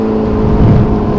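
Motorcycle engine revving hard in a street race, a loud continuous low rumble that swells briefly in the middle, heard up close with no talking.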